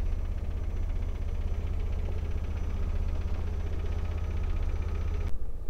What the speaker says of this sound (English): engine's running, slightly offbeat sound to the engine, which is the TwinAir engine